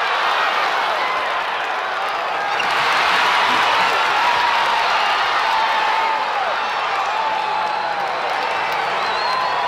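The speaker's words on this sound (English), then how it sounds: "this is a great opening day crowd" An opening-day race crowd in the Cars video game roars and cheers in a dense, continuous wash of voices, with scattered whoops and clapping holding steady throughout.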